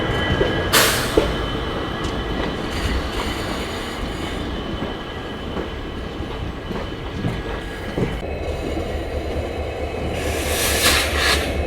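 WDG4D diesel locomotive working as a banker engine for the Kanchanjungha Express: a continuous rolling rumble of rail wagons with clattering wheels and occasional sharp metallic squeals, with no voices.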